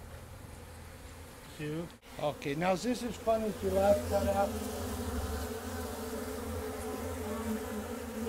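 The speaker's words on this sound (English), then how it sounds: "take a picture of these bees clustered in here" A soft, steady buzz of many bees clustered in a hive inside a dark garage hums in the background while people talk over it, faint and continuous throughout.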